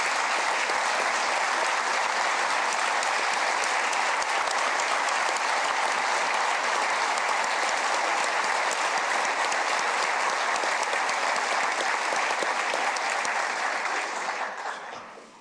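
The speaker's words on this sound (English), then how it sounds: "you all join me in giving Leda Wise Spirit a round of applause today?" A large audience at a state of the state address claps loudly and continuously in a dense, even roar of applause that holds strong before tapering off at the very end.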